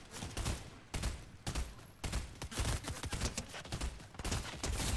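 Rapid, repeated gunfire in the Fortnite video game, sharp shots in quick clusters with brief gaps, a steady fusillade without talk.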